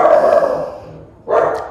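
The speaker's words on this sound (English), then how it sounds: "they gotta bark at her" Dogs barking at a departing visitor indoors, two loud close barks with a short gap between them, no talk.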